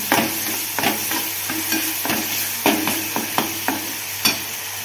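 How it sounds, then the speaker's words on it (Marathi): Masala stir-fries in oil in a pan, sizzling steadily up close while a spoon scrapes and stirs in a loose repeated rhythm, with no talk. "याला बरोबर असं थोडंसं तेल सुटायला लागतं, म्हणजे मसाला चांगला परततो हा"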